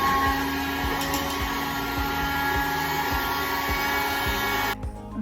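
A Hoover vacuum cleaner drones loudly and steadily at close range, pulling substrate out of the glass door tracks of a jungle python enclosure, then cuts off near the end.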